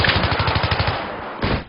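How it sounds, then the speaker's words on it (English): Rapid automatic gunfire from the video game Battlefield 3 rattles in a quick, loud burst of evenly spaced shots, then breaks off before a final short blast. "The pops of bullets being fired and the whiz as they zoom past you"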